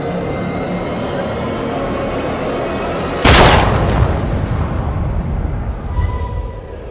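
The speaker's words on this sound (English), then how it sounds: "Shoot the damn thing." A sudden loud gunshot blast in the horror game The Dark Pictures: Little Hope, a sharp crack cutting through a low rumbling ambience, followed by a decaying roar and a smaller second bang.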